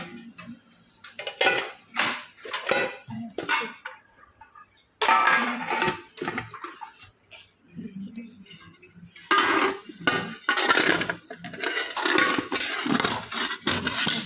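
Metal and plastic lids clatter and clink as they are pressed onto food containers in a home kitchen, with repeated close knocks and scrapes over about fourteen seconds.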